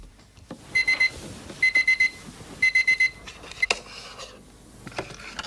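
A bedside alarm clock rings out in three bursts of rapid electronic beeping, each a short run of pulses with pauses between, moderately loud in a quiet room, followed by a few soft knocks.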